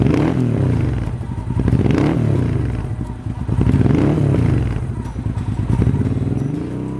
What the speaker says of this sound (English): The transverse V-twin engine is full of character, and you can hear the power